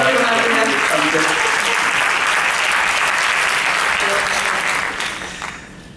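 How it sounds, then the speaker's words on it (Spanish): Loud, dense applause from a conference audience at an ebook congress in Barbastro, sustained for several seconds before fading away near the end. "Un aplauso para ellos."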